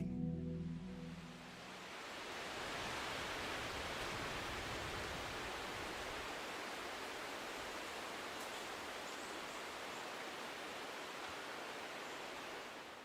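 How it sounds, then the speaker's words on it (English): Dense, even hiss of white noise that swells in after a brief low rumble and holds steady, unbroken and fairly loud. "paired with audio of white noise"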